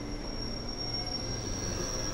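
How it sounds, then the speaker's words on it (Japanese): A JR 211 series four-car local train in Shonan livery departing Shibukawa station, a steady rumbling drone of the moving train with a sustained high-pitched whine above it, heard from inside, continuous and moderately loud. "さあドアを閉めて渋川の駅を出発です。"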